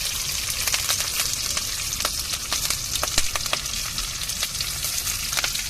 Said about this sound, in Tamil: புட்டுக்கு நல்லா முருங்கை இலை போட்டு வதக்கணும்